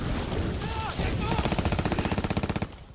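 Rapid automatic gunfire in a reenacted WWII Ardennes battle: a steady, evenly spaced burst of shots runs for about a second before cutting off sharply. Voices and shouting come just before it.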